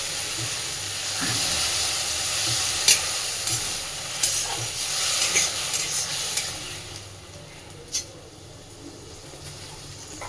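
Soaked red lentils with a little added water hiss and sizzle steadily in a hot pan, with occasional sharp clinks and taps of a utensil against the cookware.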